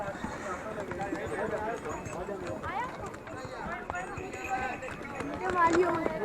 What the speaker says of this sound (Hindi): अब यहाँ से शुरू हो जाते हैं जी घोड़े वाला सीन